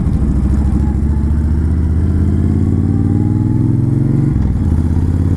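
A Honda Fury VTX 1300 chopper motorcycle rumbles steadily and loudly up close, its low engine note climbing slightly before a brief dip near the end, with no talk over it.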